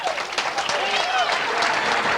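Applause from a bowling championship crowd, a steady burst of clapping and cheering that carries through the whole moment, with a voice talking over it.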